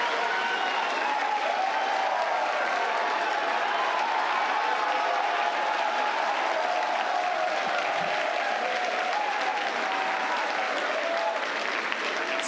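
A large crowd watching a SpaceX Starship test flight launch applauds and cheers continuously, a dense, steady roar of clapping and excited voices with no pauses.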